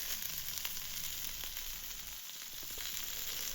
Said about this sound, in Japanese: このようにですね、非常に香ばしく美味しそうに焼けています